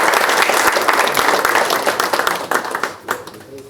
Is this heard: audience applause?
yes